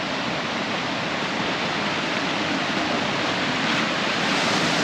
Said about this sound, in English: it's actually flowing pretty hard at the moment